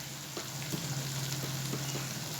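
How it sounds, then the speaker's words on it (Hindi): Spice masala for a desi-style chicken karahi fries in a pot, a dense continuous sizzle with light stirring scrapes and a steady low hum underneath, close and fairly loud, with no voices. "जी 2 मिनट मसाले को भूनें।"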